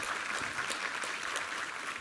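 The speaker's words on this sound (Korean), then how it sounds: "우리 하나님께 감사와 영광의 박수 올려드리겠습니다." A church congregation applauds during a Sunday service, a soft, steady wash of many hands clapping at an even level with no talk over it.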